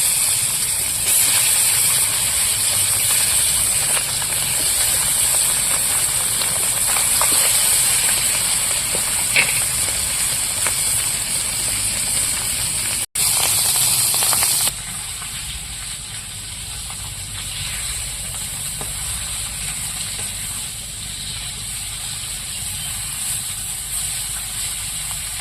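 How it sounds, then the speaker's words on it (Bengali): Small river parshe fish fry in hot oil, giving a loud, dense, steady sizzling hiss that runs on without pause, dropping slightly in intensity partway through, with no voices. "এবার মাছগুলো ভেজে নেবো"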